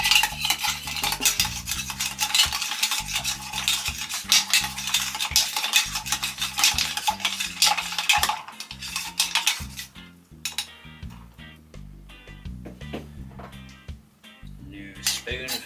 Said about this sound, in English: So, ice added, now we're going to stir.